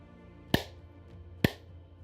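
Two sharp hand claps ring out about a second apart as an audio check, each crisp and close with a short echo, quiet room between them and no talk.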